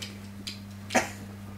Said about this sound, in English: she's just coughing profusely